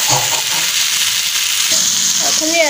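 Ginger-garlic paste sizzles loudly in hot oil in a pan for Assamese chicken curry, a constant close frying hiss with a few scraping stirs.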